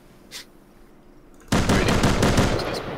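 Gunfire in the survival game Rust, a quiet lead-in then an abrupt, loud burst of rapid automatic shots, sustained and close for about a second and a half.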